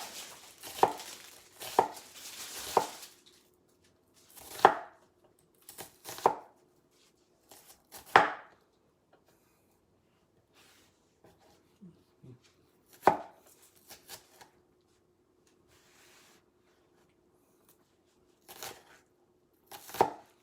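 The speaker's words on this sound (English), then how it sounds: "I know it says minced, but I'm just kind of small dicing" A knife dicing a potent onion into small pieces on a board for BBQ cheddar pork burgers, sharp close chops in short bursts separated by long quiet gaps, with no talking.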